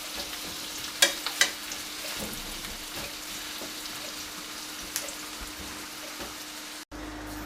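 Onions sizzling in a pan of hot oil, a steady close crackle and hiss with a few sharp pops near the start and occasional stirring clicks, with no talk.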